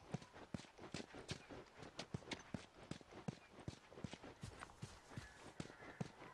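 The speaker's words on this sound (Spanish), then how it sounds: "¿Pero qué cojones hace ahí el caballo?" Horse hooves clip-clop in a steady, quick rhythm of sharp, close knocks in the video game The Last of Us, with no voices over them.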